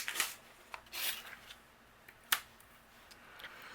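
Die cutting of white cardstock and vellum, heard as sparse, faint crisp snaps and rustles of paper with quiet gaps between them; no voices.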